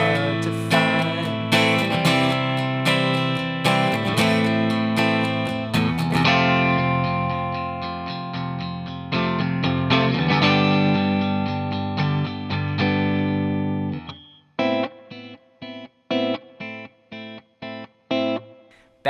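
An electric guitar with effects plays the chorus progression of a song, starting on C, in ringing strummed chords. It ends in short, separated stabs.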